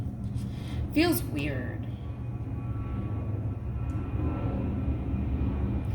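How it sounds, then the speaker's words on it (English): An airplane passing overhead gives a steady low, broad rumble that fills the whole stretch, with a voice briefly speaking early on above the engine drone. "That's an airplane passing by, sorry."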